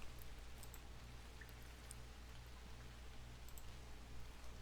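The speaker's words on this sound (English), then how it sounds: "it's raining right now" Rain falling in the Book of Travels video game, a faint steady patter with scattered soft clicks and drops over a low constant hum, no talking.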